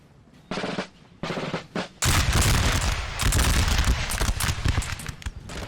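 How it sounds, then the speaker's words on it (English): Musket volleys in Napoleonic Total War 3 crackle as ragged bursts of massed fire, two short salvos followed by a longer, dense rolling fusillade, loud and close. "They're going to fire some volleys of their own."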